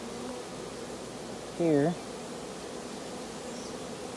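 A hived honeybee swarm forming a ball hums steadily and close throughout, a dense continuous buzz with one brief louder swell where a voice speaks a single word.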